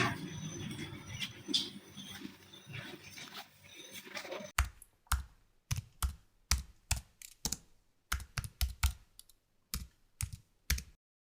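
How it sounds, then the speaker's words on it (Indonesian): Keys striking in irregular bursts, like typing on a typewriter, first under a busy background, then alone as sharp separate clacks. "Sayuti, tolong kau ketikkan naskah ini."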